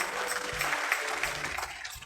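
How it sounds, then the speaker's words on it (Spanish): A church congregation applauding during a service: steady, dense clapping from many hands that fills the room, with a low tonal hum underneath and no clear talk. "Dale un aplauso al Señor."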